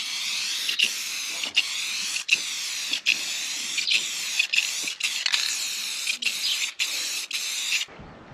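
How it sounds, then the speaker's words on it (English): Crystal clear enamel sprays onto a restored grain cart in steady bursts of aerosol hiss, each broken by brief pauses, close and continuous for several seconds, with no voices. "We're going to spray the whole thing, give it a nice coat so it stays pretty for a very long time."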